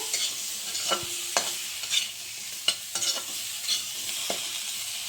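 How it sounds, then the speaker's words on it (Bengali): Aair fish curry masala frying in oil until the oil separates, with a continuous close sizzle broken by sharp scrapes and clinks of a stirring utensil. "আমার ভাজা ভাজা হয়ে গেছে, তেল ছেড়ে এসেছে"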